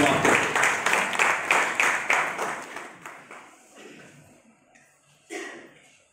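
Audience applause welcoming a guest on stage, loud rhythmic clapping that gradually fades out over several seconds, followed by a brief burst of sound near the end.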